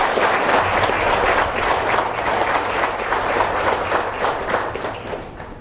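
A church congregation applauding after a sermon, a dense, steady wash of many hands clapping at once, sustained for several seconds before easing slightly at the end.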